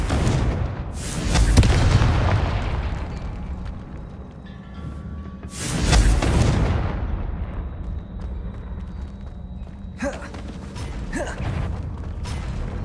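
Spell explosions in a Harry Potter video game: two loud, close blasts a few seconds apart, each swelling and fading with a rumbling tail, followed by lighter crackling impacts and creaking mechanical game sounds.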